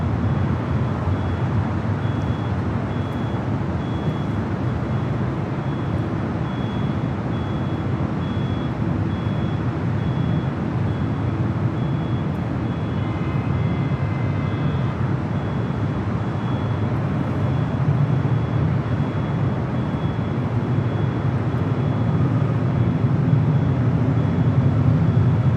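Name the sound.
Delta A319 airliner lining up on runway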